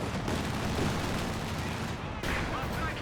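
Anti-tank Panzerfaust rocket firing during a Company of Heroes 2 battle, a loud sustained blast and roar amid dense gunfire, with a brief dip before the din resumes.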